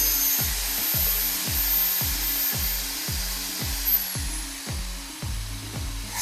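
Brown ale wort and yeast are mixed vigorously to aerate them, producing about a dozen repeated rhythmic churning strokes over a steady rushing, whirring background, close and fairly loud.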